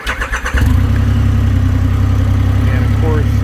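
Motorbike engine cranking with a few rhythmic turnover pulses, then firing up and settling into a loud, steady, close idle.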